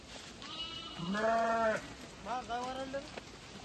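Sheep in a grazing flock give two drawn-out, wavering bleats close by, the first louder and longer, over a faint rustling background.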